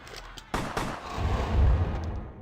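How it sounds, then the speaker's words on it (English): Gunfire in the retro RPG video game Vampire: The Masquerade, a sharp shot followed by a second blast and a rumbling, echoing tail that swells and then fades over about two seconds. "You keep shooting him?"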